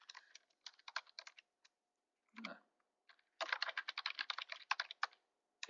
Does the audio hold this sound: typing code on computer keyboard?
yes